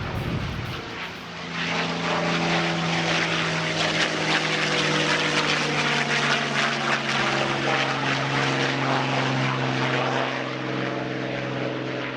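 A P-51 Mustang replica powered by a 640-horsepower Falconer V12 engine flies at an airshow, its propeller and piston engine producing a loud, sustained droning roar with rich harmonic growl that holds steady, close overhead.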